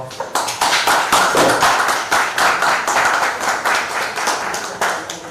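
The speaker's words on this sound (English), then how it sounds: "A round of applause for" A round of applause at a hospital supplies handover for a regional health authority; brisk, sharp clapping from a modest group, close and loud, sustained for several seconds with slight swells.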